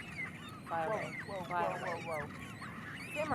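Repeated harsh, wavering calls of black-browed albatross chicks in the Falkland Islands come in short bursts over a low background rumble, several calls overlapping at moderate distance.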